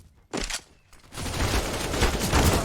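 Counter-Strike gunfire during a professional match on Inferno: a short early burst, then a dense, sustained spray of rapid shots filling the rest of the moment, close and loud.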